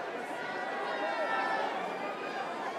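Crowd of fans at the Hobbs and Shaw film premiere, a steady wash of overlapping chatter and excited voices with no single voice standing out.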